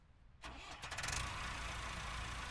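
A tractor engine in the farming game Ranch Simulator cranks and catches, then settles into a steady, rumbling idle, heard close and alone.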